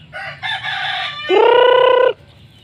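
Pet chickens gather at morning feeding, with several short clucks followed by one loud, drawn-out rooster crow close by and no voices.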